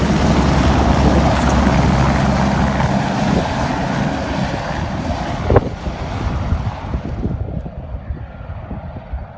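A loud helicopter engine and rotor roar that gradually winds down and fades, ending in near quiet.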